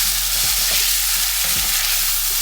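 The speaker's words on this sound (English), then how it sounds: "Just stir this around. Stir it around, get everything nice and cooked." Fish stew with ketchup sizzles in a pan while being stirred: a steady, close frying hiss, with a few soft spoon scrapes against the pan in the first couple of seconds.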